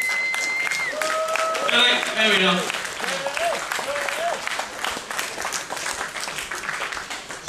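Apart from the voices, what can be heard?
crowd applause at car show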